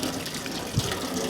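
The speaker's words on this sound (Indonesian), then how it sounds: "Kita lihat, oh, rupanya ada air." Water runs from a tap at an outdoor washing area of an Islamic center, a steady broadband rush that stays even and moderately loud through the short stretch, with no voices over it.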